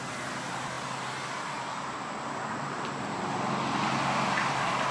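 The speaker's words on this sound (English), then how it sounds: "There's cars, see?" Cars passing on a road outside on a stormy night, a continuous distant traffic rumble and hiss that swells slightly toward the end, faint and without voices.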